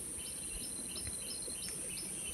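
Small birds chirp in brief, scattered calls over a steady insect drone in a hushed, remote village in Sukabumi, with no other sounds nearby.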